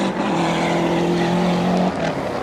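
Didier Auriol's Lancia rally car on a 1992 Rally Australia stage, its engine held at a loud, steady high pitch as it accelerates hard, then the note drops abruptly near the end as the driver lifts off.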